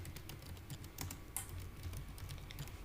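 Rapid typing on a computer keyboard, a quick irregular stream of soft key clicks with an occasional sharper tap, close and quiet with no talk.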